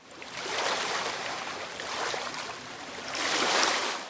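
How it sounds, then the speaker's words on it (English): Unused ocean ambience loop from Minecraft: broad washing surf swells up and recedes in slow waves, roughly three surges over a few seconds, steady and fairly close with no voices. "There's also an ocean loop,"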